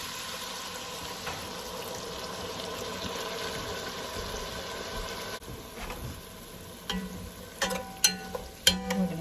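Beef stew with red wine being stirred in a pot: a soft, continuous simmering wash with light sizzle, then a few close scraping clinks of the spoon against the pot toward the end.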